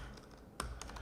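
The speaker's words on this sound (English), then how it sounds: "I'm just going to start typing" Typing on a computer keyboard at a desk, a few quiet, close key clicks, with one sharper tap standing out over a steady faint background hiss, no voices.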